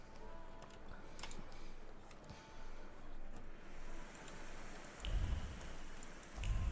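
Steady outdoor rainfall in The Thaumaturge video game, a dense even hiss of drops with faint low rumbles swelling near the end, no voices over it.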